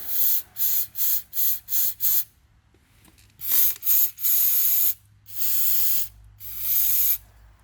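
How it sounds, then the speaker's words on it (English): An aerosol cleaner can sprays into a starter motor bolt hole on a BMW 3 Series in short bursts, six quick hisses in a row followed by longer, sustained sprays after a pause. "Spray that down, spray it in the hole to clean that hole out."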